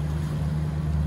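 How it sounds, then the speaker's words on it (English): A big Mercury V8 outboard on a small boat thumps out a steady, deep running drone, close and unbroken, with no talking. "Sounds like a big thumping V8, almost like you'd have on a trawler or a big game boat."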